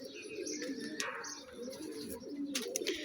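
Rooftop breeder pigeons give low, rolling coos at moderate distance, continuous and overlapping, with a few brief chirps and clatters mixed in.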